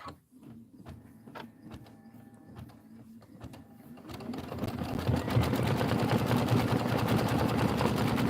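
Sewing machine stitching a Christmas quilt, starting with scattered clicks and short runs, then settling into a steady, loud mechanical whir of continuous stitching for the last half.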